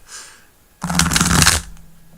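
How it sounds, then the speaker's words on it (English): Tarot cards shuffled by hand in one dense burst of riffling and thumping that lasts under a second, close and crisp, with quiet room tone before and after. "the thumping of the cards as you shuffle is really satisfying"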